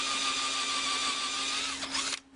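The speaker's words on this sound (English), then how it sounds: "when I drill this" A power drill whines steadily at high speed, close up, drilling a hole for forward controls on a Honda Rebel 250 motorcycle, then winds down and stops near the end.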